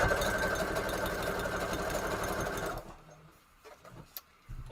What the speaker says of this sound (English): Don't ask me to diagnose your sewing machine.